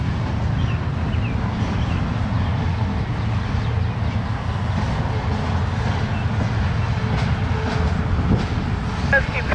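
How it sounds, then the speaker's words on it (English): A freight train moves through a rail yard, giving a steady, continuous low rumble with faint wheel clatter and wind noise that hold at an even level throughout. "What I can't tell is if this is a train getting ready to leave or backing in."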